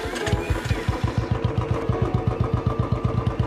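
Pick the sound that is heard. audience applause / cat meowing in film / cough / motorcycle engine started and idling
motorcycle engine started and idling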